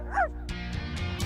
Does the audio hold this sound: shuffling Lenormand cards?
no